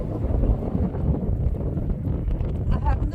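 Strong wind buffets the microphone on a beach along the Mediterranean, a constant loud low rumble with gusty fluctuations and no pauses.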